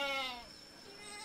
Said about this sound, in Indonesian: Ini kambingnya sudah ditali